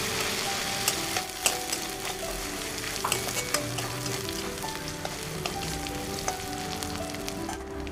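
Ginger and garlic paste fries in hot oil for a tilapia curry with mustard, giving a steady crackling sizzle with the scrape and tap of a spoon stirring the pan throughout.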